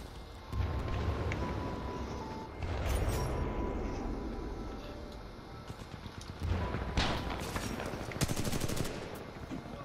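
Bursts of sniper and other gunfire from the multiplayer shooter Titanfall 2 crack out in several loud clusters over a steady bed of battlefield noise, with heavier volleys near the middle and end.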